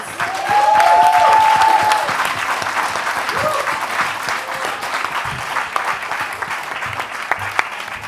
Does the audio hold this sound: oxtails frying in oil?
no